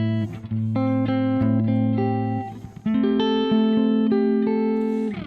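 Electric guitar played through a Kemper profiling amp set to a 1964 blackface Bassman profile, clean sustained chords and single notes ringing with a warm, full tone, with a brief pause midway, close and alone.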